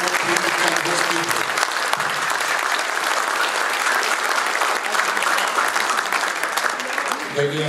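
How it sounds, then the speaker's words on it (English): Loud, dense audience applause fills a room at an IMCA racing banquet, sustained throughout, with a voice faintly heard at the start and end. "I want to make sure you all give them a big round of applause"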